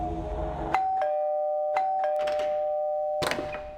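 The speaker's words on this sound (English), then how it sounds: "I kept ringing the doorbell until the door finally unlocked" An electronic doorbell chimes several times in a row, each tone ringing on and sustaining, heard close and clear with no voices.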